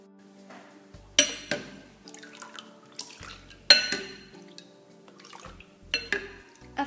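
Liquid for homemade plain yogurt is poured into a small container with a spout, with close light trickling and several sharp clinks of glass or crockery throughout.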